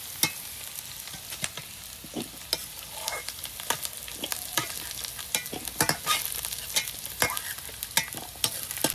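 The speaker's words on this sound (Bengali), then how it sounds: "এই দেখুন এঁচোড়টা সুন্দর করে ভেজে নিয়েছি" Jackfruit pieces fry in pungent mustard oil, a soft steady sizzle punctuated by frequent sharp clicks and scrapes of stirring, close-up, with no one speaking.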